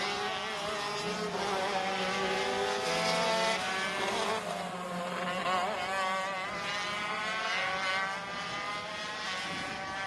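ROK Shifter go-karts racing on a track at Sonoma, high-pitched engines revving and shifting close by, their whining tones rising and falling as several karts pass.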